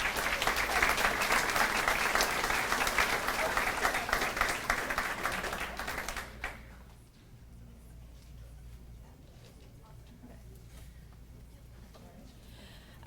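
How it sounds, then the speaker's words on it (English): Audience at a sports banquet gives an athlete a round of dense, loud applause for about six seconds, then it drops off sharply to a quiet room with faint scattered claps. "she deserves a big applause for that"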